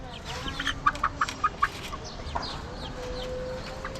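Backyard chickens being fed cluck in a quick run of sharp, close calls, then settle into softer scattered clucks and faint chirps.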